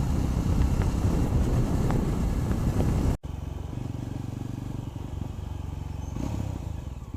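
A motorcycle riding along a bumpy road, its engine droning loud and steady right at the microphone with wind buffeting and rattles. A brief dropout cuts in partway through, then the ride continues unbroken.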